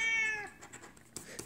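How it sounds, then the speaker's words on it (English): A house cat meows once, a clear, drawn-out call up close that fades into soft indoor room noise. "Uh-oh, kitty cat is in the house."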